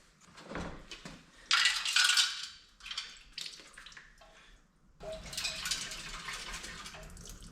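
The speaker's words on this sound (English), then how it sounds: "And I don't think you're supposed to hear stuff rattling in it." Loose debris rattling and clinking inside a removed car radiator from a 1965 LS-swapped C10 pickup as it is shaken, faint metallic bursts in two separated spells with brief quiet gaps, alongside a little sloshing water.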